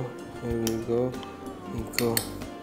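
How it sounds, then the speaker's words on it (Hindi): A spoon stirs citrus juice, including orange juice, in a container, giving repeated light clinks and scrapes against the sides while a person talks over it. "give it a nice mix"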